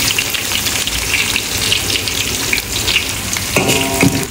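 Shallots and garlic fry in oil for a fish soup with a dense, loud, continuous sizzle at close range, with a faint ringing tone near the end.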